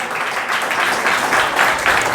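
A church congregation claps together, a dense steady wash of many hands ringing out loud and close, holding without a break throughout.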